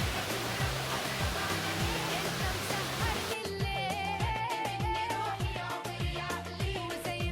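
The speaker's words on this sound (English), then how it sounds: "now I'm going to show you the largest indoor waterfall in Dubai Mall." An indoor waterfall in Dubai Mall gives a steady, loud rushing wash of falling water, with music playing over it; after about three seconds the roar thins and the music becomes more prominent.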